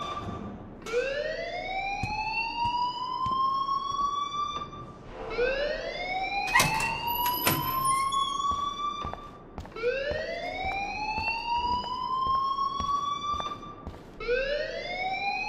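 A school fire alarm in a video game wails in repeated rising sweeps, four loud cycles with short gaps, a sharp electronic tone over faint background sound.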